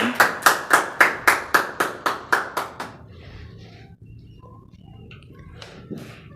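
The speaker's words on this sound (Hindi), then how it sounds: "तो आप लोगों की भरपूर तालियों में" About a dozen crisp, evenly spaced claps in a steady rhythm welcome a speaker at a family program, then stop abruptly, leaving faint room noise and a few soft sounds.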